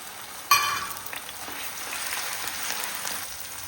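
Onion paste frying in a spoonful of ghee and oil in a pan, a soft steady sizzle with a brief sharp burst as it hits the fat, continuing quietly without talk.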